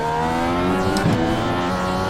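A race car spins out in a racing video game, its steady engine drone wavering with a short burst of tire scrub partway through, loud and close with no talking.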